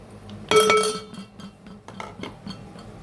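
A spoon strikes a container with one sharp, bright clink while stirring spiced prawn pickle, followed by faint, quieter scraping taps.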